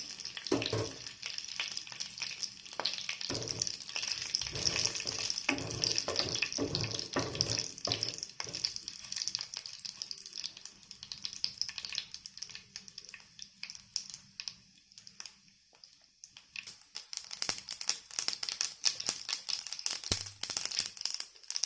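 Mustard seeds and curry leaves crackling and spluttering in hot oil in a pan, a busy irregular sizzle with sharp pops, fading quieter midway before picking up again.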